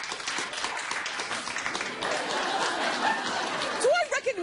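Studio audience on a daytime talk show clapping and laughing together in a dense, continuous wash, with crowd chatter mixed in and a voice rising near the end.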